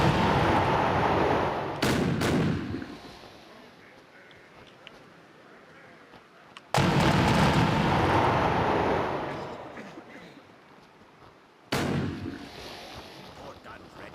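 A ship's port broadside cannons firing in a modded naval video game, three heavy booming volleys several seconds apart, each roaring loudly and then rumbling away into quieter background.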